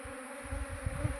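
Honeybees buzzing as they leave hive boxes, a soft steady drone with a few louder passes near the end, no talk.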